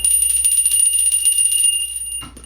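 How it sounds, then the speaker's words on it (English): A small bell rung once, a bright sustained metallic ring with a clear high tone that holds steady for about two seconds, then cuts off with a short rustle. "Now we're going to ring the bell."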